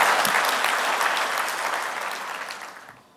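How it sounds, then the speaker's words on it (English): Audience at a conference gives a speaker a round of applause, a dense, steady wash of many hands clapping that holds strong and then fades out near the end. "So, ladies and gentlemen, a huge round of applause for Sangeet Bhullar."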